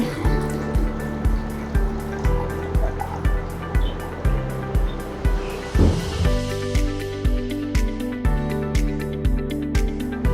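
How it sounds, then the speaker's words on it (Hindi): About two glasses of water are poured while making cucumber juice with black salt and sugar, a continuous splashing fill under louder rhythmic background music. "दो गिलास जितना मैं पानी डालूंगी।"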